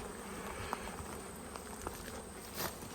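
Italian honeybees buzz around an opened hive, a soft, steady hum close by with a few brief taps and knocks, and no talking.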